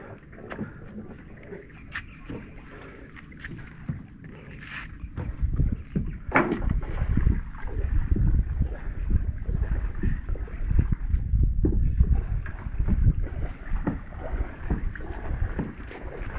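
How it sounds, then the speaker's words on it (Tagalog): A motorboat swings around on open water, its low engine rumble swelling from about six seconds on and holding steady under gusts of wind, with faint voices early on. "Umikot na si motorboat."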